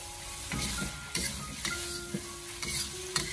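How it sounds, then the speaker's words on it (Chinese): Pork belly stir-fried with sauce over low heat, a close steady sizzle broken by regular sharp scrapes and clanks of a spatula against the wok, roughly every half second, with no talk. "然后再继续的小火不停的翻炒，把酱料的香味给它翻炒出来"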